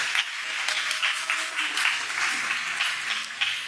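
Audience applause and hand clapping for young adults and teenagers at a Sabbath service in a large hall, a steady dense wash of many hands lasting throughout, moderately loud with no voices over it.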